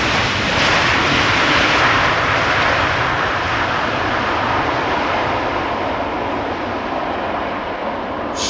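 A fixed-wing airliner landing at Amsterdam Schiphol Airport gives off a loud, steady jet engine roar that holds for the whole stretch, fading slightly toward the end.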